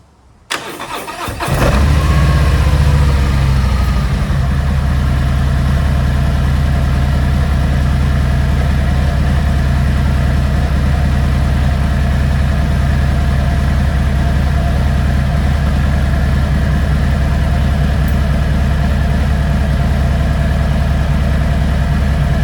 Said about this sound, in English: let's go ahead and give it its first start up since the oil change